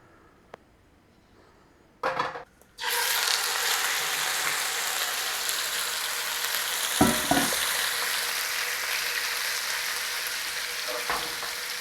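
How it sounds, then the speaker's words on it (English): Beef dropped into a hot oiled pan for a ginger and spring onion stir-fry sets off a loud, steady sizzle after a quiet start and a brief clatter, with a few soft knocks over the hiss. "When we chuck the beef in, we leave it. Let it sit in the pan."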